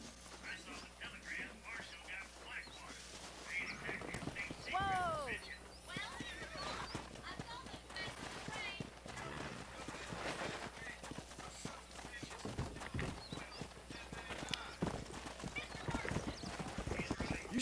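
Wild horses in Red Dead Redemption gallop past with a rapid clip-clop of hooves and several shrill neighs and whinnies, while characters talk over the herd and an ambient score plays beneath.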